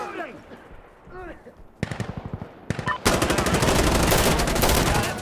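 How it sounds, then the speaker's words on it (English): Bursts of rapid automatic gunfire in the shooter game Insurgency Sandstorm, first in short rattling volleys, then a dense, loud, continuous barrage, after a stretch of a voice talking over quieter battlefield background. "Let's drop an artillery strike right there."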